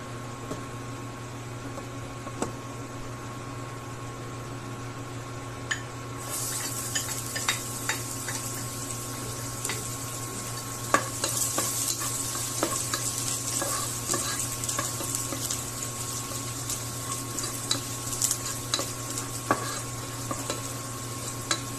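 Chicken adobo sizzles in hot cooking oil in a pan. A steady close frying hiss swells sharply about a quarter of the way in and continues, with occasional stirring clicks over a low background hum and no talking.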